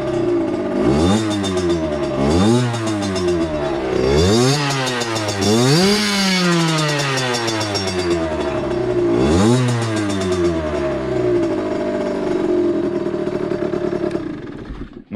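A small off-road motorcycle engine is started and revved repeatedly, rising and falling in sharp whining bursts close by, then holding a buzzy idle, while checking for a vibration after crankshaft bearing work.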